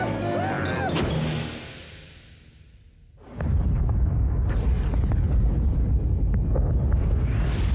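A cartoon spaceship self-destructs in a deep rumbling blast that swells and roars on after a brief drop in sound, following an earlier stretch of buzzing, whirring tones.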